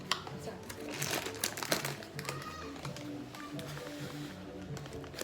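A pancake mix packet is cut open, steady crinkling and crumpling of the plastic with small taps running throughout, close and fairly quiet, while children talk over it.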